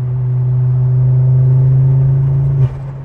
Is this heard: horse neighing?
no